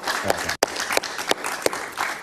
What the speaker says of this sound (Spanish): Un aplauso para Alonso Moleiro, por favor.